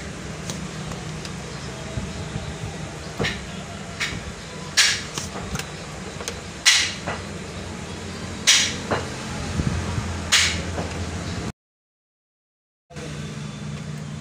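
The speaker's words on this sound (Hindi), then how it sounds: "गिलास खोल के उसको चोट लगाएंगे ताकि जंग वगैरह उतर जाए, ये आसानी में निकल जाए।" A screwdriver is struck to knock jammed, rusted bushings out of their housing, giving a series of sharp metallic taps spaced a second or two apart over a steady low mechanical hum.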